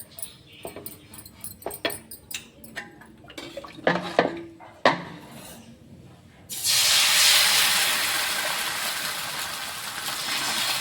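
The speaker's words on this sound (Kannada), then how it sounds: "ಇವಾಗ ಮತ್ತೆ ಎಣ್ಣೆ ಹಚ್ಚಿ ಮತ್ತೊಂದು ಹಾಕೋತೀನಿ." Neer dosa batter poured onto an oiled pan, a sudden loud broad sizzle that bursts in and holds steady, preceded by scattered clinks and kitchen handling sounds.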